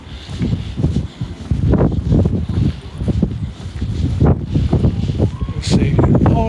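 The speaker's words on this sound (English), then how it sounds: "It's a little bit windy up this way." Gusty wind at a wildlife park in December buffets the microphone in uneven, rumbling bursts that rise and fall throughout.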